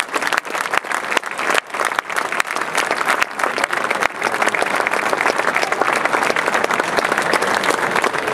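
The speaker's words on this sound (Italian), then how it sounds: "A loro il nostro grandissimo applauso" An audience at a rugby club's season presentation in San Donà claps for honored members, loud sustained applause from a big crowd that starts with distinct claps and swells into a dense, steady roar.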